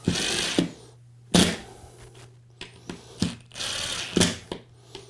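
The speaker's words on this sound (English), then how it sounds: "When working with an impact driver, as soon as you hear that click, stop, be trigger sensitive." An impact driver sets screws into a homemade Murphy bed frame in several short, harsh bursts separated by pauses, with a low steady hum underneath. No one speaks.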